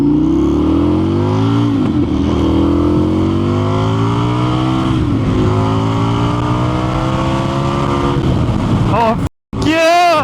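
An Indian FTR 1200 motorcycle engine revs hard and climbs steadily toward its rev limiter, close and loud, with pitch rising in long sweeps before cutting off sharply near the end.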